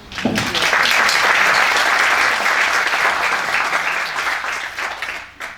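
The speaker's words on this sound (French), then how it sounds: "Je pense qu'on mérite des applaudissements." A conference audience in Rabat breaks into sustained applause, a loud dense wash of clapping that holds steady and then trails off at the end.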